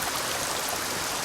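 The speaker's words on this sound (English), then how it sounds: "You just listen to that streaming water." Steady streaming water in the Assassin's Creed Shadows video game, a constant close rushing hiss with no breaks and nothing else over it.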